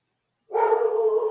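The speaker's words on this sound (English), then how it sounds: "Sorry about the dog. Got a little excited about somebody outside." A single dog bark, close and fairly loud, sounds after a brief silence and is held as a short, sustained yelp at someone outside.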